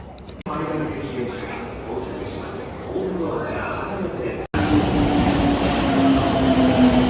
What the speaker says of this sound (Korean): 일본 마지막 지하철입니다.